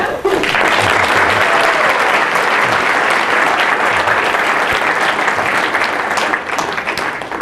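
An audience gives a speaker a warm welcome with loud, dense applause that stays steady for several seconds and eases only slightly near the end.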